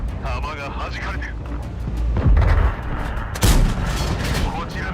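Tank cannon fire in World of Tanks, two heavy booming shots a second apart ringing out over a continuous rumble of battle noise.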